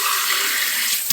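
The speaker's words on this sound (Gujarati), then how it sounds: "પાણીનો ગ્લાસ ભરી લેવાનો" Tap water runs steadily as a glass is filled in a home kitchen while spiced dough is being prepared, a continuous close hiss that cuts off abruptly near the end.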